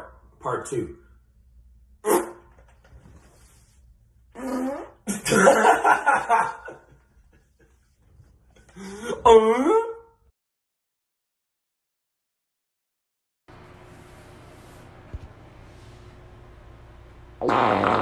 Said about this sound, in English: I'm gonna guess the sound of my fart before I do the fart